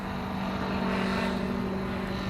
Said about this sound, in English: Ooh, there's an airplane.